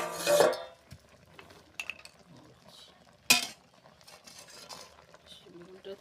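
Beans and eggplant chechki being stirred in a pan, with a few scattered spatula scrapes and clanks against the metal, a faint sizzle underneath and a quiet, near setting.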